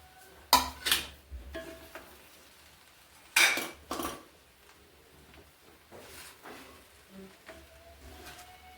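A pan of sabudana khichdi with ghee-roasted, salted potato is stirred, giving several sharp metallic scrapes and clinks of a spoon against the pan in two bursts, then lighter scattered taps and scrapes, close and clear with no talking.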